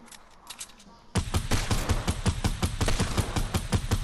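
Rapid gunfire in the video game Fortnite battle royale opens faintly and distant, then bursts into loud, sustained automatic shots in quick rhythmic succession, with some player chatter underneath.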